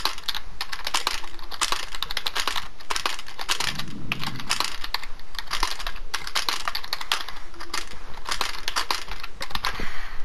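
Rapid typing on a computer keyboard, with dense irregular clicks and clacks of keys struck close by, continuing without a break for about ten seconds, with a brief low rumble partway through.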